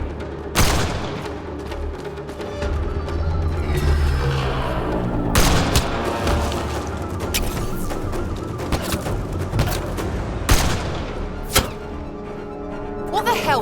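A video game firefight with repeated sharp gunshots and bursts of fire, some sounding like loud booms, scattered across the whole stretch amid shouting voices and battle noise.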